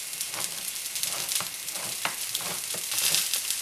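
Vegetables sizzling in a stir fry pan, a steady bright hiss with crackling pops and occasional stirring scrapes, fairly close with no talking.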